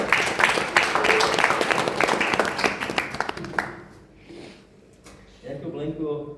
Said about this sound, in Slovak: To je potlesk.